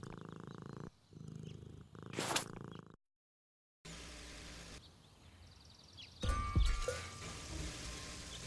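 A kitten purrs in the Deponia video game, a soft steady rumble that cuts out briefly and resumes, set against game ambience and a louder burst of rustling noise near the end.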